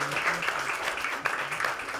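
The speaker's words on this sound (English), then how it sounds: "Please let's give her another round of applause." An audience claps at a wellness and community talk event, with a brief burst of moderate applause filling the room.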